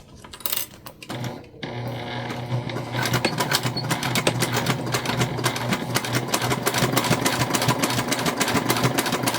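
A sewing machine stitches a half-inch seam on a bag, starting with a few handling sounds and then running in a close, fast, even mechanical chatter that continues to the end.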